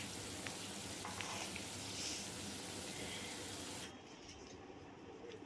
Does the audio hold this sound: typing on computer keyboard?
no